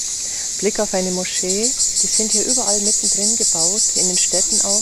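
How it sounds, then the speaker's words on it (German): Loud, continuous high buzzing of cicadas fills the air at a small café overlooking the sea in Turkey, steady throughout while someone talks over it. "Und man hört die Zikaden"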